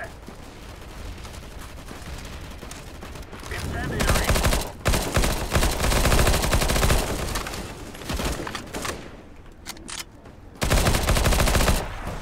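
Counter-Strike: Global Offensive firefight on the Austria map, with dense bursts of automatic gunfire that swell and drop, loud and close, broken by short pauses, and a voice speaking partly over the shooting.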